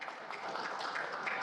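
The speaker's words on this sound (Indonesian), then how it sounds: "tepuk tangan untuk Pak Narko ya" An audience at a political declaration event gives applause, a dense, even wash of clapping heard at a distance for a brief stretch without any voices.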